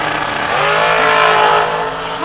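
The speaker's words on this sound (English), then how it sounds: "we're ready to watch the end of the dragster time runs" Dragster race car on a time run, a loud roaring engine that rises and holds for about two seconds, heard from the track side.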